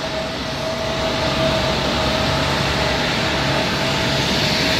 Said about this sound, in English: There's an Alaskan flight landing right now. Obviously, super friggin' loud.